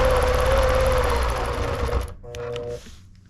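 A longarm quilting sewing machine stitches a zigzag, running with a fast, steady mechanical whir and hum for two seconds before stopping, followed by a short quieter burst of motor noise and faint clicks.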